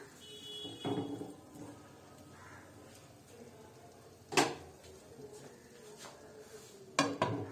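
A metal lid is set onto a cooking pot of beetroot, carrot and tomato chutney, giving a few brief, faint clinks spaced apart over quiet kitchen background.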